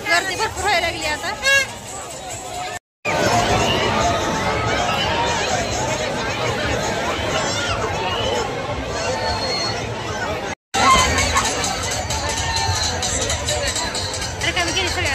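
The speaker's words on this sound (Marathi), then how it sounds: "गर्दी भरपूर व्हायला लागली आता." A dense crowd fills the village temple fair for Shri Nagnath Maharaj at Kurdu, with rides nearby, a continuous loud babble of many voices and chatter surrounding the listener, broken by two brief cuts.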